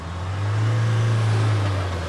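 Mahindra Thar Roxx 5-door SUV engine running steadily in 4-low, a loud, close, continuous low drone that holds level for about two seconds with no talk over it.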